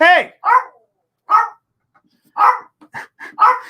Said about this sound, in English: mom's dog Kukla is letting me know that she wants to go on the couch